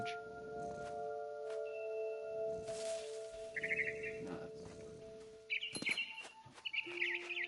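Small bird chirping in What Remains of Edith Finch, short high tweets and trills arriving in bursts toward the end over a steady game ambience, fairly close and clear.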